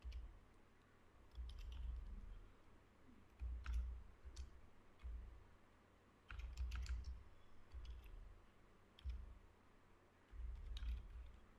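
Someone types a script on a computer keyboard, a quiet, close patter of key clicks arriving in short bursts separated by brief pauses, with no talking.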